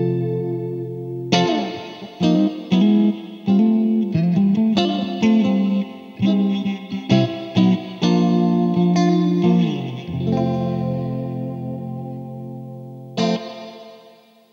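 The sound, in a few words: vintage electric guitar playing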